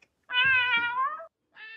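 A cat meowing twice up close, a long drawn-out wail followed after a short pause by a briefer second meow.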